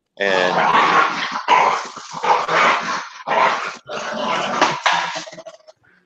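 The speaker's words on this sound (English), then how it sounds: "I just had to smack 2 dogs" Two dogs growl and bark loudly indoors in rough, snarling bursts with brief pauses between them, lasting several seconds before trailing off.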